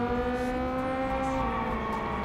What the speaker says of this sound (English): Why is the idle so loud?